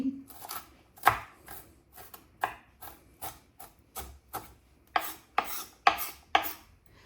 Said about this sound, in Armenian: Ինչքան հնարավոր է մանր կտրատեցի։